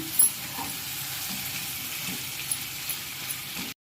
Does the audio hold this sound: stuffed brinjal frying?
yes